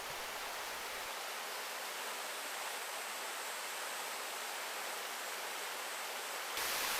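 Steady rushing of a mountain valley stream in Gucheondong Valley, Deogyusan, a broad, even hiss of flowing water heard alone without voices, slightly louder at the very end.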